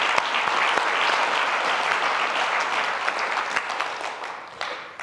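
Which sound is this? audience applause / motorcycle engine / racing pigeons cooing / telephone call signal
audience applause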